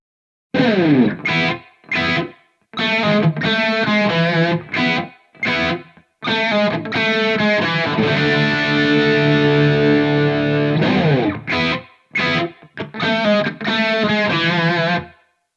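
Distorted electric guitar through a Mooer GE300 recreating a JCM800 amp tone plays chopped chords and a long sustained chord, the tone washed in roomy reverb with ringing tails.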